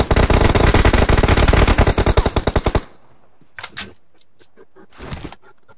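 Rapid automatic bursts from a Scar L assault rifle in PUBG Mobile, a loud close stream of evenly spaced shots that stops abruptly, followed by a few short mechanical clicks and rattles.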